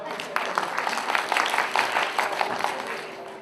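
An audience claps together at a Bhagwat Katha gathering, a dense, steady patter of many hands, moderately loud and sustained.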